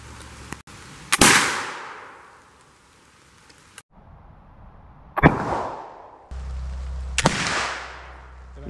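Flintlock rifles fire outdoors in the rain, several sharp cracks spaced a few seconds apart, each trailing off in a long rolling echo over steady rain hiss.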